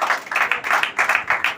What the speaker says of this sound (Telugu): చప్పట్లు కొట్టాలండి.